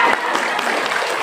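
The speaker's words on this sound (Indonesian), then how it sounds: "Tepuk tangan kalau dia," Audience clapping during a marketing-plan seminar session, a brief burst of many hands applauding at close range, fairly loud and even throughout its short length.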